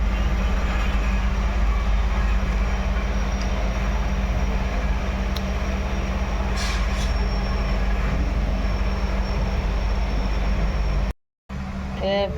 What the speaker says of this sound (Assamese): আমি ট্ৰেইনত যাই আছো